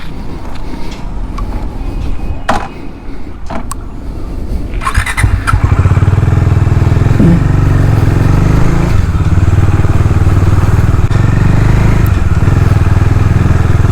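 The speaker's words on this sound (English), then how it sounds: "So I'm taking the bike out now." A motorcycle is taken out on the road: a few clatters and handling knocks, then the engine runs steadily and loudly close up, with a rumble that holds and swells slightly.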